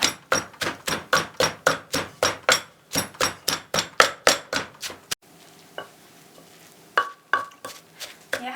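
A pestle pounds Thai red curry chili paste in a mortar, a steady run of about twenty-five dull, even thuds, then a pause and a few scattered knocks as the work stops.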